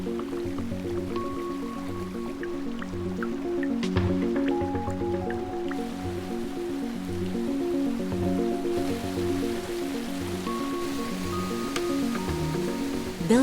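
Water dripping from melting snow in the Alps in spring, with repeated small drips over a steady, rhythmic, layered background.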